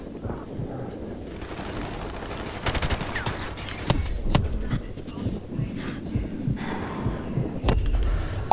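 Gunfire in Call of Duty Modern Warfare Remastered, with scattered sharp shots and bursts cracking over a constant rumbling battle backdrop, the shots coming louder and closer toward the end.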